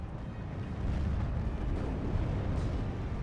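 Pak 40 anti-tank gun fire and impacts on half-tracks in the Steel Division 2 war strategy game, a dense, rumbling low-end roar of explosions that swells after the first second and holds loud and continuous.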